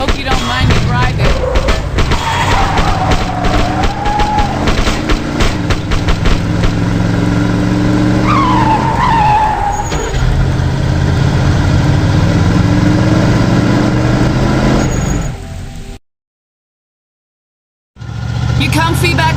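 A car engine revs and drives in the video game The Suffering, with a rising and falling whine like skidding tyres over a low rumble. Loud and close, then it cuts to silence near the end.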